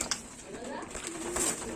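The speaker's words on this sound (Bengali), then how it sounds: "দেখুন পায়রাগুলো দেখুন শুধু" Pigeons coo softly in a breeding loft, low throaty calls rising and falling a few times at moderate distance, with someone speaking over them.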